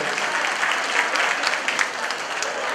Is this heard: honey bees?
no